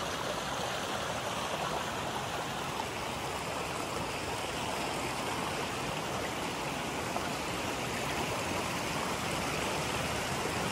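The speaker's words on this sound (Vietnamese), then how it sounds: "Đây cũng có thác" A small waterfall and forest stream at a two-branched creek in Binh Thuan province, Vietnam, a constant, even rush of flowing water, close and unbroken, with no voices.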